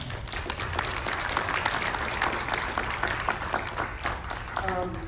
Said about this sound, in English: give yourselves a round of applause for that